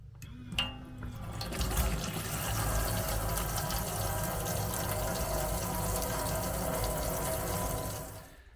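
Water pours steadily from the tap of a camper van's freshly filled water tank, a continuous, fairly loud rushing flow that holds for several seconds before easing off, with no voices.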